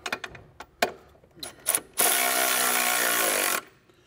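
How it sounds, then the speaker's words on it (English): Electric ratchet snugging a 16 mm ball joint bolt on a Mercedes E63 AMG front suspension, a steady loud buzzing run of about a second and a half, preceded by scattered clicks and taps of handling. "Now I'm just gonna snug up the 16 really quickly with the electric ratchet."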